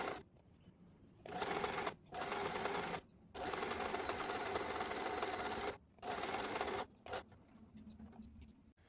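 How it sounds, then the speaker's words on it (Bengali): An electric sewing machine stitching gathers along the bottom part of a top, running in several steady whirring bursts separated by short pauses, close and clear with no talking. "বটম পার্টে মেশিনে গেদার্স সেলাই করে নেব।"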